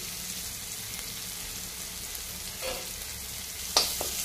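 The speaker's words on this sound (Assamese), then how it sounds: "সৰিয়হকেইটা ফুটুক ফুটুককৈ যেতিয়াই ফুটিব" Mustard seeds in hot oil with chilli, ginger and garlic: oil sizzles softly in a pan, with a few scattered sharp pops and crackles near the end as the seeds burst.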